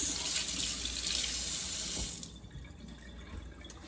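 Running tap water during a quick rinse while making lemon curd: a steady, fairly loud stream that cuts off after about two seconds, followed by a fainter trickle and drips.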